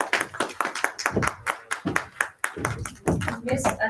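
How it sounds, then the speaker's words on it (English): Clapping from a conference audience, a handful of distinct, fairly close hand claps in an irregular patter rather than a full ovation, mixed with other room sound. "Huge round of applause for Miss Ananya."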